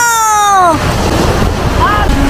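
Sea waves wash onto a beach in a steady broadband rush, with a voice rising over the surf at the start and again briefly near the end.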